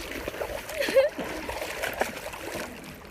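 Water splashes and sloshes as someone wades into a stream over slippery moss, a steady close churning with a few sharper surges, while a person talks over it.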